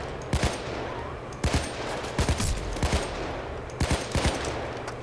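Gunfire in the game Payday 2: sharp bursts of two to four shots repeat every second or so, loud and close over a constant background hum, with no voices.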